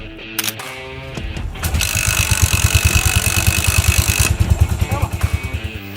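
A Yamaha SR400 single-cylinder motorcycle engine starts with a few mechanical clatters, then settles into loud, rhythmic thumping pulses close by.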